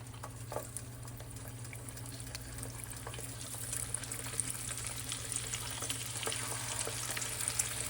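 Ribs frying in hot oil for crispy fried ribs, giving a steady, even sizzle that holds at a moderate level throughout with no talking.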